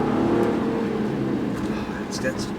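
A 2WD-less Infiniti G35x all-wheel-drive car's engine growls and revs at close range, with someone talking over the motor throughout.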